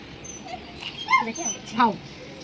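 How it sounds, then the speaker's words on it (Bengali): A pet dog whimpers close by in two short, high, rising whines about a second apart, fairly soft against a quiet room. "আমার কুকুর চুপাচু।"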